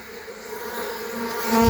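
Bees in an active Langstroth beehive make a close, steady buzzing hum that swells slightly louder over a brief moment.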